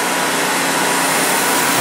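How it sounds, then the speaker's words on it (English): Shop Sabre 7214 CNC router spindle running up, a loud steady broadband whine and rush that holds evenly throughout, with no voices. "You can hear the spindle turn on."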